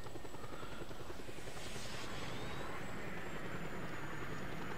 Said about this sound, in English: He's flying out of the hangar in a chopper.